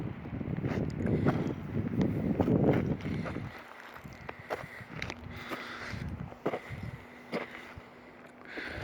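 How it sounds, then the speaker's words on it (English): Low, rumbling gusts of wind buffet the microphone in a high-altitude mountain garden, heaviest in the first few seconds, then easing into softer intermittent blustering with faint outdoor rustles. "Sorry if you're getting a lot of wind sounds in the video."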